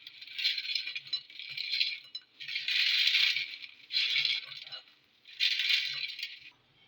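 Dried homemade tutti frutti pieces rattle and clatter against a bowl in several separate bursts of crisp, close shaking, with short quiet gaps between them.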